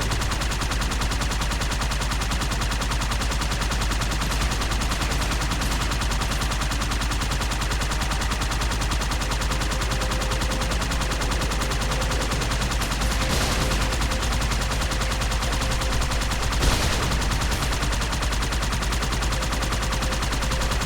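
Sustained automatic gunfire in Halo 2 as a player sprays shots at Ghost vehicles on Legendary difficulty, a dense, steady rattle filling the whole stretch with a couple of sharper bursts near the end.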